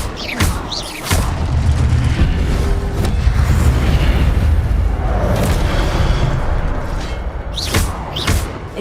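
Repeated fire spells cast in the game Hogwarts Legacy, loud booming whooshes and bursts recurring several times over rumbling combat noise, with no talk.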